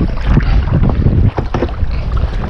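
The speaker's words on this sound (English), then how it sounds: "the wind is a little bit too strong for what we want to do." Strong wind buffets a fishing kayak on the water, roaring loudly and continuously close to the microphone with rough gusty surges.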